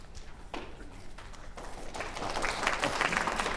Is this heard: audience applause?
yes